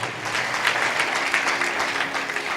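Congregation at a church sermon clapping hard together, a loud, dense burst of rhythmic hand claps filling the room for the whole short stretch.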